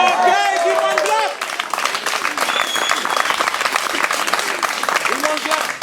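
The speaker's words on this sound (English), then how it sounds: "Okay, give one clap." Audience clapping at a Slow Food feast in Vanuatu: someone speaks first, then scattered, uneven hand claps come through for several seconds, with chatter mixed among them.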